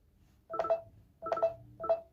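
Three short electronic chime-like tones from the Poco X3 smartphone's game turbo interface, bright and clean, spaced about half a second apart in a quiet room.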